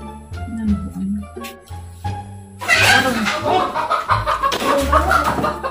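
Chicken clucking close by, short bursts at first, then mixed into busier noise as people talk over it.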